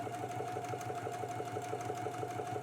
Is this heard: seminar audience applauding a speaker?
no